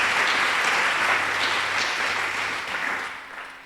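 Applause and cheering from a church conference congregation, a dense wash of clapping that holds steady and then thins out toward the end.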